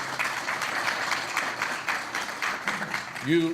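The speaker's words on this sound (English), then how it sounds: "Can we have a round of applause for the Times, please?" A round of applause at a First Amendment Foundation summit at St Petersburg College, steady audience clapping throughout, ending as a voice begins speaking.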